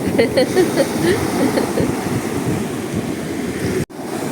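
Ocean waves breaking on Stidia beach, a steady roaring wash of surf close by, rumbling continuously with a brief dropout near the end.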